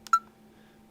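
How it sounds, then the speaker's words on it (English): A single sharp electronic beep from a Living Solutions digital camcorder, short and bright, preceded by a tiny click and followed by faint hum. "It's got a loud beep."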